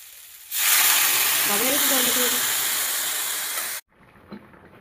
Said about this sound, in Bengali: পেঁপের আলুটা সুন্দর করে ভেজে নিচ্ছি